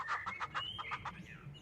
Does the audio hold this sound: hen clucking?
yes